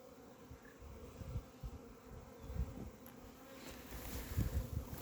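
Honey bees on an early spring cleansing flight buzz continuously nearby, a dense swarming hum with individual insects passing closer now and then, no voices.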